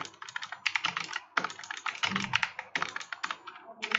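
Fast typing on a computer keyboard while writing code, dense clattering bursts of keystrokes with short pauses, close and clear with no talking.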